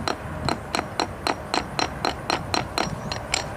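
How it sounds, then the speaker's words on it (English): A hammer taps repeatedly on cracks in fresh stamped concrete treated with color hardener, a dozen sharp close knocks at a fairly even, quick rhythm. "take a hammer and tap them back closed"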